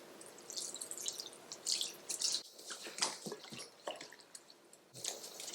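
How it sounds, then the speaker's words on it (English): Vinegar poured in a steady stream, splashing and trickling, with a brief pause partway through and no talking. "Now I'm going to pour a little bit of vinegar."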